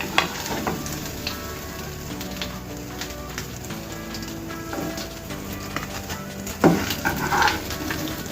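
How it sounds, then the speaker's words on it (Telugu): Vegetable cutlets fry in a pan until browned on both sides, a steady close sizzle running throughout with a few louder crackles and scrapes of turning near the end. "ఇలా మంచి 2 సైడ్లు కూడా మంచి కలర్ వచ్చే వరకు వేయించుకోవాలి"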